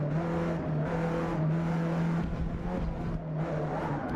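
Race car engine in Forza Motorsport, a steady loud droning engine note with a sustained pitch and shifting roar, heard alone without talk.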